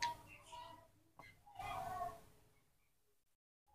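A cat gives a couple of soft, drawn-out meows, close by but quiet, with short pauses between them, while a baby monkey disturbs it.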